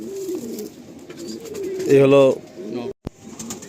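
Madrasi breeder pigeons, a male and female pair kept for sale, coo in a close, steady burst of low throaty notes, with a voice talking around them.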